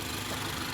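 A 2018 Mazda CX-3 engine idles just after startup, a soft, smooth, steady hum heard up close for under a second with no voices.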